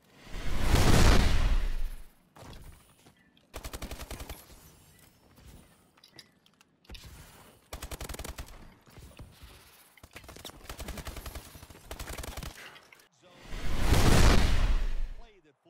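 Video game gunfire: several bursts of rapid automatic shots crackle at mid distance, set between two loud heavy whooshing blasts at the start and end.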